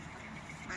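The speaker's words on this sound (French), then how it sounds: "on a une maman canard avec des bébés" Mother duck and her ducklings quack outdoors, a short burst of soft calls near the end over steady background noise.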